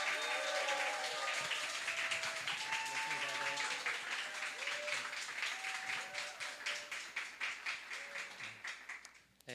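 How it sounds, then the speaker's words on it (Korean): Church congregation applauding to welcome the pastor, rhythmic group clapping that grows more distinct and then fades, over a background of voices and tones. "우리 목사님 나오실 때 우레와 같은 박수로 좀 목사님 환영하면 좋겠습니다"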